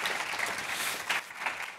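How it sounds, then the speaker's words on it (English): An audience applauds Brendan Kane, a steady wash of many hands clapping at close-to-moderate distance, sustained without a break and with no voices over it. "So please give a big round of applause to Brendan."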